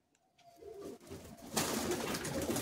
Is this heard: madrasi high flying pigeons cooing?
yes